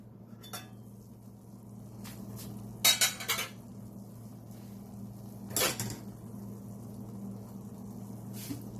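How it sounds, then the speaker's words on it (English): A lid comes off a pot of simmered callaloo with a few light metallic clinks and clatters against the cookware, over a soft steady kitchen hum. "Now that our callaloo is simmered for a minute, I'm gonna just remove the top."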